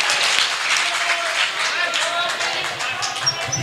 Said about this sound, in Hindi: आइए जनाब सज्जाद झंझा, ऐसे नहीं, जोरदार तालियों की गड़गड़ाहट में उनको आवाज दी जाती है।